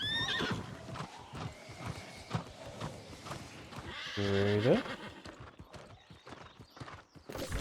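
Horse hooves clip-clop steadily in the New World Aeternum video game, with a loud neigh rising in the middle and someone talking over the hoofbeats.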